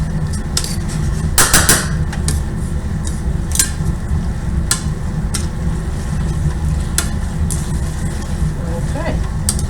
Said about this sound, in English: the pasta is finishing cooking right in the sauce